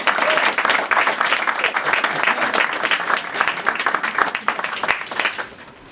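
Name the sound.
audience applause for a reader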